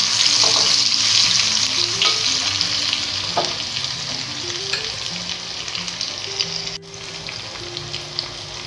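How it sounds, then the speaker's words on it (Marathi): Crushed garlic and cumin seeds sizzle loudly in hot oil for a dhaba-style whole masoor dish, a dense continuous crackle with occasional stirring scrapes and background music playing underneath. "नंतर थोडासा लसूण ठेचून घेतलेला चांगला परतून घ्यायचा."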